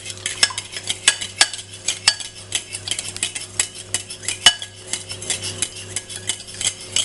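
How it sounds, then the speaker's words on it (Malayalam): A spoon stirs milk into appam batter in a metal vessel, giving rapid, irregular clinks and scrapes that repeat close up with no talking. "അതിലേക്ക് പാല് 1 കപ്പ്, നന്നായി മിക്സ് ചെയ്യുക."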